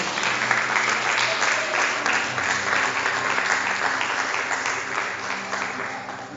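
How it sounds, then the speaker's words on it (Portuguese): A church congregation claps together in a sustained wave of applause, full and even throughout, with a faint voice beneath it. "Você pode aplaudir ao Senhor?"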